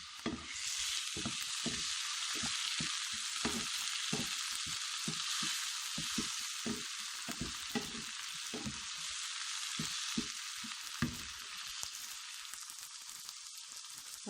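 Tomatoes fry in hot oil with a steady, hissing sizzle that never stops, broken by soft crackles and spatters. The sound is close and even, with no voices.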